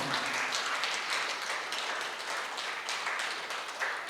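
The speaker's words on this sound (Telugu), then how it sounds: "ఒకసారి గట్టిగా చప్పట్లతో ధన్యవాదాలు తెలియజేసుకుందాం" An audience at an International Meditation Day gathering claps loudly in a sustained, dense burst of applause, no voices over it.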